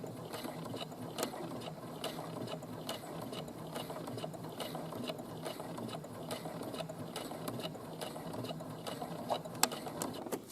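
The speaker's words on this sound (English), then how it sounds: "We're going to stitch to the end, and then we're going to back stitch about 3 or 4 stitches." Sewing machine stitching a 5/8-inch seam, a steady fast mechanical whir and ticking that runs alone and close for the whole stretch, with small clicks along the way.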